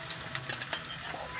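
Ginger garlic paste drops into a hot pan and sizzles, with bursts of frying crackle and a little stirring clatter.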